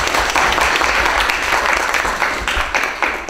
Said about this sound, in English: Yes, applause, please.